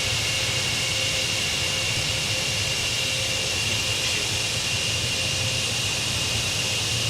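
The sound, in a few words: Concorde jet engines starting, flight simulator video game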